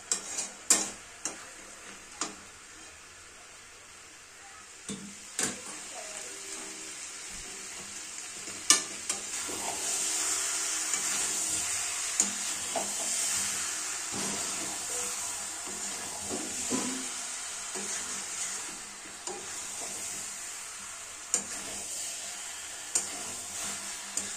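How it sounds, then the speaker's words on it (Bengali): Chicken slowly fried and stirred for kosha over a low gas flame: a quiet continuous sizzle with repeated scraping and clinking stirring strokes, close and alone. "তাই ধৈর্য ধরে মাংসটা খুব সুন্দরভাবে দীর্ঘক্ষণ ধরে কষবেন"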